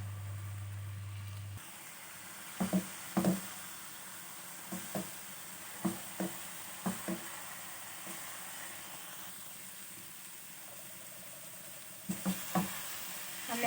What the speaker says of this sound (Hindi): हमने अच्छी तरह से गाजर के हलवे को भून लिया है घी डालने के बाद।